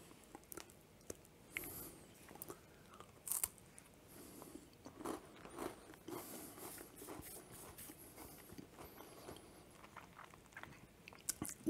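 Close, crisp crunching from repeated bites and steady chewing of a brittle homemade birthday cake Kit Kat bar, with sharp crackles scattered throughout.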